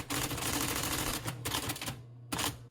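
An IBM Selectric II electric typewriter from the 1970s, converted to work as a teletype, prints in rapid mechanical bursts of clattering keystrikes with a motor hum underneath, pausing briefly between lines.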